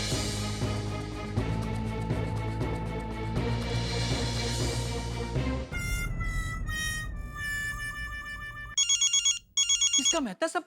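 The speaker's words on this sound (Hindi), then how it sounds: "इसका मेहता साहब का फोन है" A telephone rings in bursts of electronic ringing, loud and close, coming in after music in a Hindi sitcom scene.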